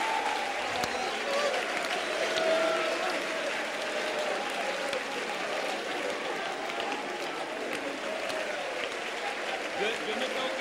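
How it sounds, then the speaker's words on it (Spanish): An audience at a religious gathering applauds steadily, a continuous wash of clapping mixed with crowd noise and voices, with a brief low thump near the start. "Otro aplauso para el más importante."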